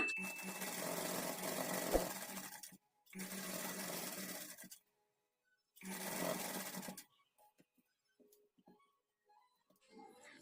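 Sewing machine stitching puff sleeves, running in three loud bursts of rapid whirring separated by pauses, then quiet with faint handling clicks at close range.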